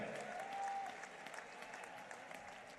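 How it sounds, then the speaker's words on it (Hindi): A large crowd at an election rally in Alwar applauds to welcome Amit Shah. The clapping is a dense, distant wash that holds steady throughout, with a faint tone audible early on. "एक बार जोरदार तालियां बजा करके हम सब स्वागत करते हैं"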